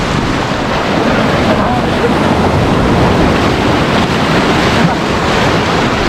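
Loud, steady rush of sea surf and wind on the coast near Mumbai, water washing against a small fishing boat loaded with fish, continuous broadband roar with no pauses.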